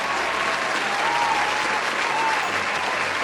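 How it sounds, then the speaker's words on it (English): An audience breaks into steady applause for a young woman being introduced, a continuous dense wash of many clapping hands at even loudness throughout. "Give her a round of applause"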